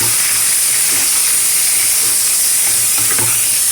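Lote fish fry in a pan with turmeric, salt and spices, producing a loud, dense, unbroken hiss of hot oil, heard close up with faint stirring underneath and no voices.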